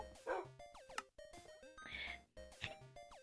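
Dogs barking and yipping in a modded Minecraft game, several quick game-style barks and whimpers in bursts across a few seconds, moderately loud with no talk.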